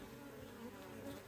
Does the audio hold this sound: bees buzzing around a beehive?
yes